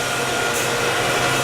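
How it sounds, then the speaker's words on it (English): A seed treatment machine runs and pumps chemicals from its treatment tank, producing a loud, steady, broadband whirring hum close to the listener. "We already got the machine running here just so it can start pumping through."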